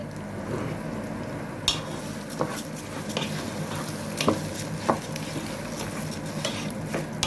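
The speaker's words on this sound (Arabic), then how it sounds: "هنزل بالرز وافضل اشوح فيه." Rice stir-fried in ghee in a pot gives a soft continuous sizzle, with intermittent scraping stirs and light clinks of a spoon against the pan, close and quiet.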